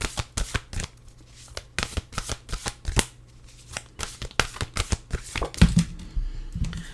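Oracle cards from a Nature's Whispers deck are shuffled by hand, giving a steady run of sharp, close riffles and flicks with brief pauses before a soft thump near the end.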